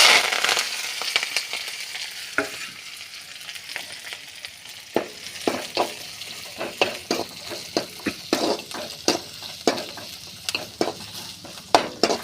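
Mustard seeds, onion, green chili and curry leaves frying in hot oil in a pan, a loud crackling sizzle with repeated sharp pops and spoon scrapes, close up with no talk.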